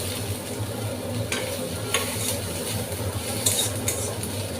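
Mixed vegetables stir-frying with Maggi masala in a pan for egg noodles, a soft continuous sizzle with occasional light scrapes and clinks of the spatula.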